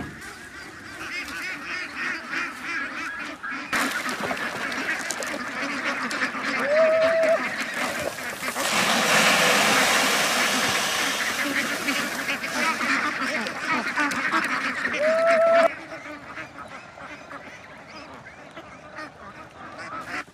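A big farm flock of about a hundred escaped ducks keeps up loud, dense quacking and honking for the whole stretch, with a broad noisy roar in the middle section and a couple of brief higher calls standing out.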